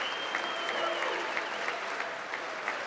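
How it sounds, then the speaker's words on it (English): Applause from an audience during a political speech, a steady wash of clapping at moderate distance that holds throughout with a voice faintly underneath. "Look at all those white people clapping for that"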